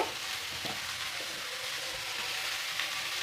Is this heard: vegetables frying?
yes